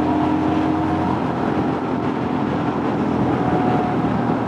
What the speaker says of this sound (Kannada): ನೋಡಿ ಗೈಸ್, ಆಕ್ಸಿಲೇಟ್ರ್ ಕೊಡ್ತಾ ಇದ್ರೆ ಹಂಗೆ ನುಗ್ತಾ ಇರುತ್ತೆ ಗಾಡಿ.